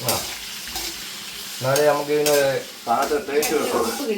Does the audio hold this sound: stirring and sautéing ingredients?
yes